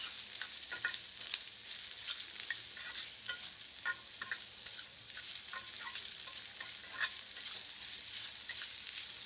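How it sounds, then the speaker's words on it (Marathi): Garlic frying in hot oil until reddish, for a Malvani-style chicken masala, a steady bright sizzle with small crackles and occasional stirring clicks running continuously, close and fairly loud. "लसूण व्यवस्थित लालसर करून घ्यायचा आपल्याला"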